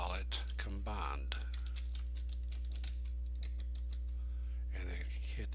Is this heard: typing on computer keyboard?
yes